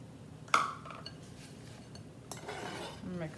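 Metal spoon clinks and scrapes against a bowl while oats are stirred into a sweet cluster mixture with vanilla, a sharp clink near the start followed by softer stirring and scraping.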